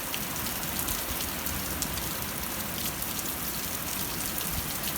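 Steady, moderate rain falls continuously over a garden with potted corn, a dense even hiss with no pauses and no voices.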